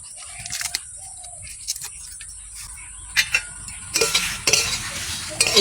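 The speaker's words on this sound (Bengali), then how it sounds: "আমার প্রায় ভাজা হয়ে গেছে চিড়েটা" Flattened rice (chira) with bay leaves fries in a pan for a rice payesh, with a soft sizzle and intermittent scraping and clinking stir strokes close by.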